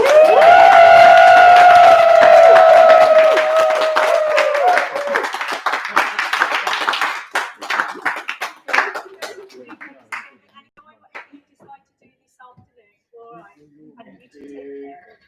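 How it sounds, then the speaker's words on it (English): Wedding guests clap and cheer as the newlyweds are introduced, loud at first with whoops and tonal shouts, then thinning into scattered claps and fading to near quiet with a few faint voices. "can you give an almighty round of applause as I introduce to you for the very first time, Mr. and Mrs. Morris"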